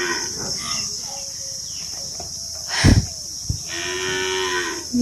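A water buffalo lets out a long, low moo in the open countryside near a border area, heard over a steady hiss of insects. A couple of brief thumps interrupt partway through.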